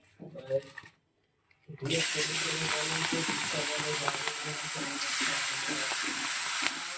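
Prawns frying lightly in hot oil in a kadai, a loud steady sizzle that bursts in after a short spoken remark and a pause, then continues with faint stirring and occasional crackles.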